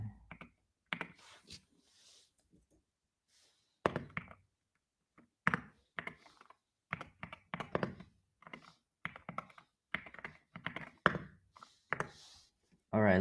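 Typing on a computer keyboard, close up, in irregular bursts of clicking keystrokes separated by short pauses, with a few heavier thunks on the keys.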